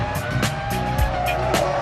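2003 Formula 1 cars scream past one after another in a loud, continuous rush of high-revving engines, with repeated surges as each car goes by close at hand.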